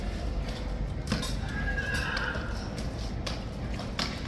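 A King's Troop horse neighs faintly in the distance amid outdoor background noise at a King's Guard ceremony, with a few sharp knocks and clatters scattered through the clip.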